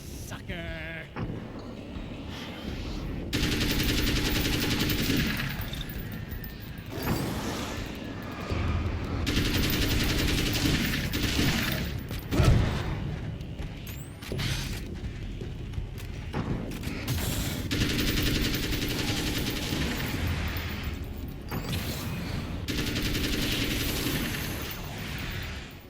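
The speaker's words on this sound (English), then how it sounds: "Pues el rifle de asalto es una maravilla, como era de esperarse." Sustained automatic assault rifle fire in the video game Alan Wake's American Nightmare, coming in long loud bursts with brief gaps across the stretch, joined by mechanical clatter and a voice talking over it.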